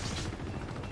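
A rapid, loud burst of automatic gunfire from a shootout in Uncharted 2 (Nathan Drake Collection on PS4), dense and unbroken for about a second.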